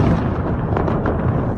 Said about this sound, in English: explosions were heard in the Krasnodar region